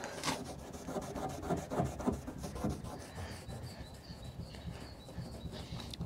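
Wet-and-dry abrasive paper rubbed over the painted bodywork of a BMW E46 318Ci, a continuous gritty rasping with repeated strokes, close and steady throughout, with no talking.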